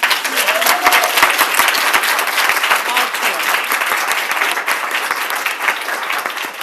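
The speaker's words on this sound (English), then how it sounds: "he just deserves another round of applause" A forum audience gives a sustained round of applause for a doctor. The clapping is dense and steady throughout, with no speech on top.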